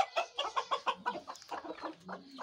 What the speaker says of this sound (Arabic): الذيك هذا